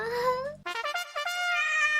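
A cat meowing in a short, high, tonal call followed by a stuttering series of quick rising mews, close and clear with no talk.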